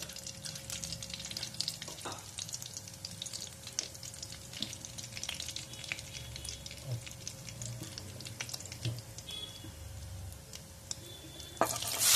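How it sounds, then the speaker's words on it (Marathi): Cumin seeds fry in hot oil left from frying paneer for a restaurant-style cashew paneer masala, giving a faint, steady crackling sizzle with scattered small pops and a sharper clatter near the end. "आपण आता याच तेलात 1 चम्मच जिरे घालणार आहोत"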